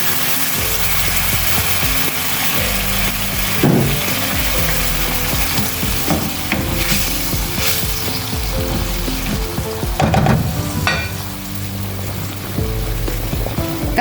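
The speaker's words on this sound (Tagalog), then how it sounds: "At maglagay tayo ng konting water para maluto ng maayos ang ating chicken." Chicken cooks in a pan with a little added water, giving a steady, close sizzle and bubbling broken by occasional scraping clinks of stirring. No one speaks.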